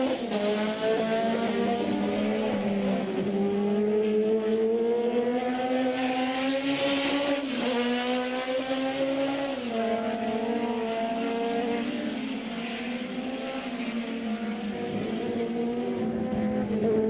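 Historic Formula 2 racing cars at Zandvoort passing at speed, a loud sustained engine howl that rises and falls in pitch for about seventeen seconds, dense and continuous with no speech.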